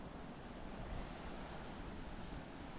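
Ocean waves wash onto the beach at Praia de Angeiras in Portugal as a continuous, soft, broadband roar with wind noise, distant and even throughout, with no voices.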